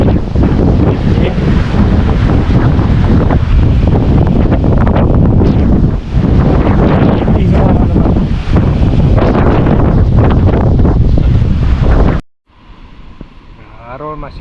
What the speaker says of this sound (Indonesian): ini angin barat teman-teman. Memang tidak bisa kerja. Ini terlalu kencang